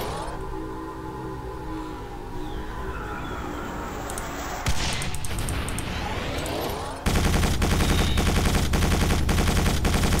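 Rapid bursts of gunfire from a first-person shooter, Quake 4, fired at enemies including hovering foes, dense and continuous, growing louder in stages with a busy layered game soundscape behind it.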